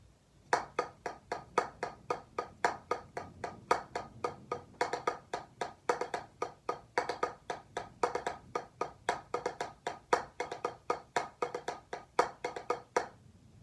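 Crisp drumstick taps on a pad play a repeating paradiddle sticking pattern, singles mixed with quick double strokes on the second sixteenth note, steady and close for several measures.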